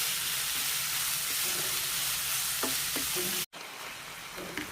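Chopped onion and salted soy chunks sauté in a hot pan with a steady close sizzle, broken by a few stirring scrapes and a brief cut before the frying resumes.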